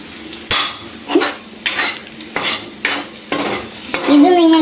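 Egg bhurji stirred and fried in a pan, a spatula scraping in several distinct strokes roughly every second over a soft background sizzle, close and clear, with a louder sizzle swelling at the end.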